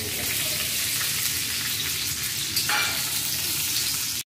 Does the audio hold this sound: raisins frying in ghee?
yes